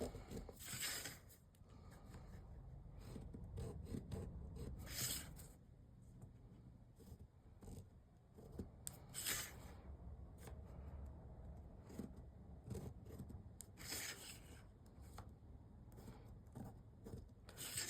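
A glass potion bottle being scored, with repeated short scratchy rubbing strokes at close range, some sharper bursts among quieter scraping, and no talking.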